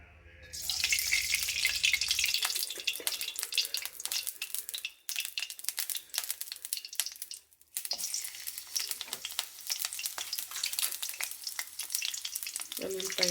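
Tempering spices fry in oil in a kadai, giving a loud, dense crackling sizzle that runs almost continuously, with a brief dip midway before it picks up again. No one speaks.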